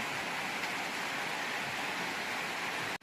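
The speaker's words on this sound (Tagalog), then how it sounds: "Maulan sa labas, ayan maulan." Dense, even rush of heavy rain falling outside, steady throughout, cutting out abruptly just before the end.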